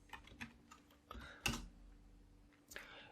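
Computer keyboard typing in short bursts of quick keystrokes with a few louder taps and pauses between, close and clear with no talking.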